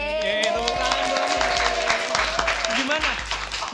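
An audience applauds and cheers during a lively entertainment show segment, sustained clapping under loud overlapping talk and a voice hosting over it.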